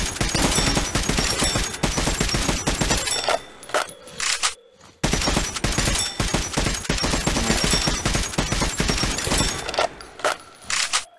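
Dense, loud video-game gunfire in Metro: Last Light Redux, rapid bursts crowding together with a short pause around the middle before the shooting resumes just as heavily, no talking.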